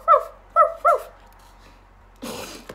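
A person imitates a dog barking with three quick, close woofs, followed by a brief noisy rustle.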